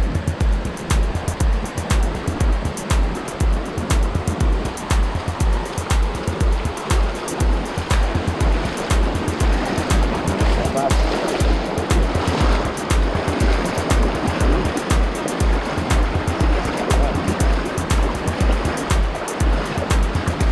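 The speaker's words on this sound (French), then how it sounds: "Bon, il va bien falloir le traverser, ce fleuve." Steady broad rush of river water flowing around someone wading across a river in Zetaquira, Colombia, loud and continuous throughout, with rhythmic low thumps of movement through the current.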